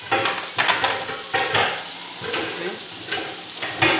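Biryani spices, turmeric powder among them, dropped into a hot sizzling pan and stirred, with steady frying hiss and repeated scraping stirs of a spoon, close and fairly loud, no voices.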